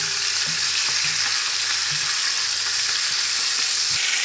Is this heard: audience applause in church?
no